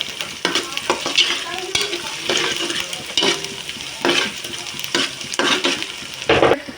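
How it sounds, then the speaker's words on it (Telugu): Cumin powder fries and sizzles in a pan while being stirred for a korameenu fish curry, a steady close sizzle broken by repeated scraping stirs, with no talking. "తర్వాత జీలకర్ర పొడి, తర్వాత ఈ దోరగా వేయించుకోవాలి."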